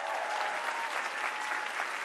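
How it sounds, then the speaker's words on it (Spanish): A dense, steady wash of audience applause at a political event in Spanish, many hands clapping together at an even level for about two seconds with no voices rising above it. "Aplausos."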